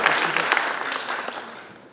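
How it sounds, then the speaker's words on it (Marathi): Crowd applause for a woman named Ishwaritai at a public gathering, a dense, steady burst of many hands clapping that fades slightly toward the end. "जोरदार टाळ्या झाल्या पाहिजे ईश्वरीताईंसाठी"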